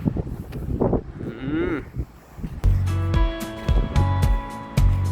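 Cattle low on a farm with rice fields, several deep drawn-out moos overlapping near and far, mixed with outdoor rustle and a brief voice in the background.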